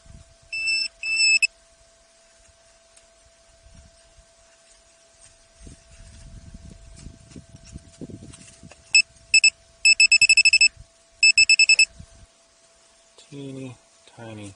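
A metal detector beeps over a very small non-ferrous target at an abandoned gold mine, with short bursts of high-pitched electronic tones repeating in quick clusters, close and loud against quiet outdoor background and some rustling.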